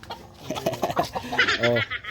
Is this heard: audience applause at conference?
no